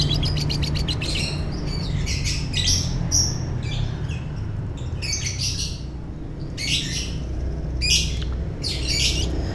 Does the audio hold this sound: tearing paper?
no